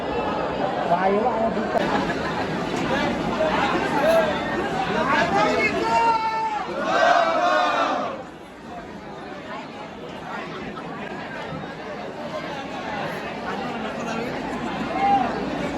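Dense crowd chatter at the Aai Ekvira palanquin procession, a continuous hubbub of many voices close around that swells, dips briefly near the middle, then carries on steadily to the end.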